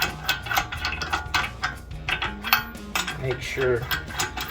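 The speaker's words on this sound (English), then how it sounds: "Then we're gonna use the 1/2-inch torque wrench just to" Wheel lug nuts on a 2015-2022 Mustang tightened with a 1/2-inch torque wrench, a close rapid ratcheting clatter of clicks in quick runs, with someone speaking briefly over it.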